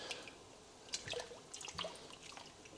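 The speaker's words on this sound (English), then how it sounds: "I'm going to get a pair of tongs and just move it around in that cold water" Blanched kale is stirred with tongs in a bath of cold tap water, producing faint, soft splashes, drips and sloshing close by, with no speech.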